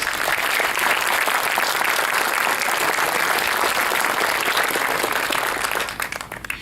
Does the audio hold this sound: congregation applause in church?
yes